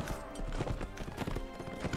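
Hooves clatter in a fast, steady galloping rhythm as a horse runs in the medieval combat game Mount & Blade: Warband, loud and continuous under the busy game soundscape, with no talk.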